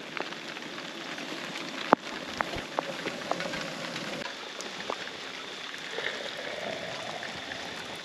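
Rain falling by the Murray River, a steady soft hiss of drops with scattered sharper ticks and pats from nearby drops, constant and close for the whole stretch.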